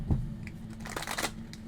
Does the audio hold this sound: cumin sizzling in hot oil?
no